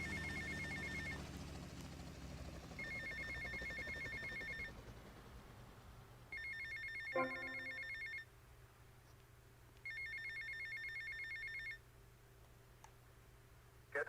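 A payphone rings in Grand Theft Auto: Vice City, repeated electronic trills in bursts with gaps between them, over a low game ambience, with a single clunk midway.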